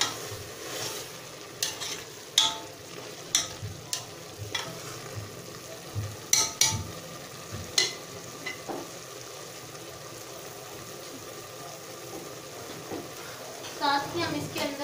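Keema with red pepper powder is stirred and mixed in a pan, a soft sizzle under repeated spatula scrapes and clinks that come in uneven bursts, quiet and close, with some talk.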